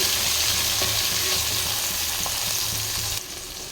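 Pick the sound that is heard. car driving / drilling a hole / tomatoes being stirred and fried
tomatoes being stirred and fried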